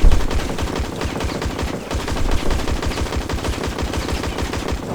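Rapid automatic fire from an SMG FPP 2000 in the online game InZone Online, a loud, close, continuous stream of evenly spaced shots with no voices.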